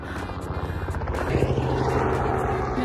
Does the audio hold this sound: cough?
no